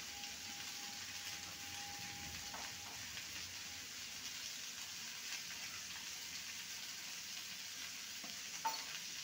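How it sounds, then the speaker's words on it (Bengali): Bitter gourd fries quietly in a pan with salt and turmeric powder, a faint continuous sizzle with occasional soft spoon scrapes and clicks. "ভালো করে নেড়ে নেব।"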